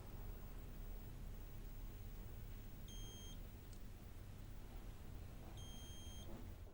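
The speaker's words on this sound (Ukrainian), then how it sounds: "Все пищить." Two short electronic beep bursts sound from a Chery Kimo (A113) car during a repair to the airbag clock spring, repeating a few seconds apart over steady background hiss.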